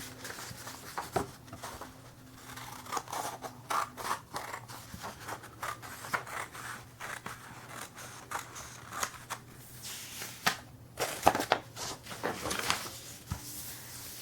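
Scissors snip steadily through a square sheet of paper along a marked line, with repeated crisp cutting strokes and paper rustle close by in a quiet room.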